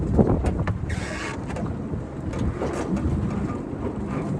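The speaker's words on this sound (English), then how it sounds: "You'll hear the sail start to fluff around." A sailboat's sail flutters and rattles in strong wind as the boat turns into the wind, with gusty rumbling wind noise throughout and no talking.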